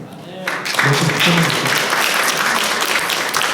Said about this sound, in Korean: 오늘이 가장 많이 박수 친 날 같아요.